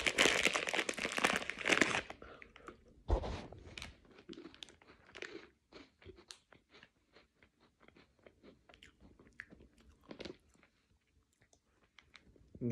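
Hello Panda biscuits with milk-flavour filling crunched between the teeth: a crinkly packet rustle first, then repeated close crunchy bites and chewing, fairly quiet, with no speech.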